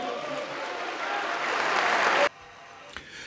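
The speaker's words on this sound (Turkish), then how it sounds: "Böyleydi alkışlarla karşılandı" An audience at a Turkish political speech breaks into sustained applause that swells for about two seconds and then stops abruptly, leaving quiet room noise.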